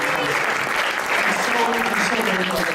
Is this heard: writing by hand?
no